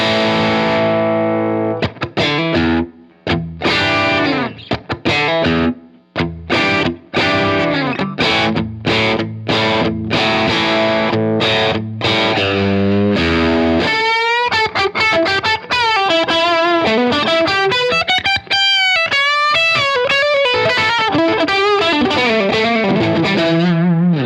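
Electric guitar through a Strymon Iridium amp modeler with raised gain, played loud and distorted, with choppy rhythm chords that give way to sustained, bending lead lines; no talking.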